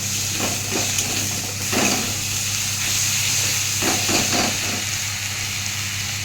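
Water poured into hot oil with ginger, garlic and onion paste sizzles and hisses continuously and loudly close by, with a spoon scraping through the pan in short bursts.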